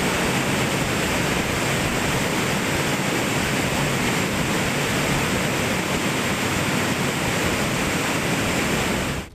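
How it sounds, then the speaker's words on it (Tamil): Roaring rush of the flooded Manimuthar waterfall in full spate, a loud, steady broadband wash of falling water that holds unchanged throughout and cuts off abruptly at the end. "மணிமுத்தாறு அருவியில் வெள்ளப்பெருக்கு ஏற்பட்டு நீர்வரத்து அதிகரித்துள்ளது"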